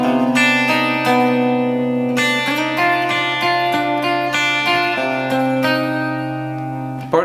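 Electric guitar playing the opening section of a song in a lowered tuning with an open D, sustained chords left ringing one after another, close and clear with no talking.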